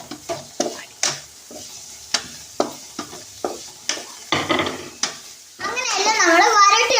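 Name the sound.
stirring tomatoes frying in a pan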